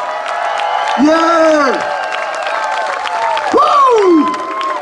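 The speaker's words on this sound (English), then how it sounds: "Y'all give him a round of applause." Blues festival crowd at an outdoor music fest applauds and cheers with whoops, a broad wash of clapping under loud, close vocal exclamations that swoop up and down, with someone speaking briefly.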